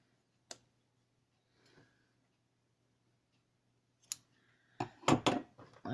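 Small crafting scissors snip a few times while a crochet dreamcatcher is finished: an isolated sharp click near the start, another around four seconds, then a quick cluster of close, crisp snips and handling noises at the end.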